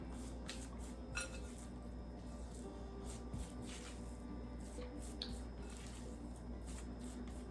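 A spatula works thick gluten-free graham cracker dough around a bowl, producing faint soft squishing and scraping with occasional light taps against the bowl, quiet and close.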